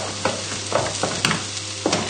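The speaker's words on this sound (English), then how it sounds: "Just stir in the milk." Milk being stirred into creamed leeks in a hot pan, with soft repeated spoon scrapes and sloshes over a quiet steady sizzle, close and without speech.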